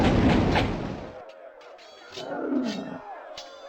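A unit's volley fires in the Warhammer: Shadow of the Horned Rat strategy game, a loud, dense burst that fades into a lower rumbling roar and scattered faint clicks.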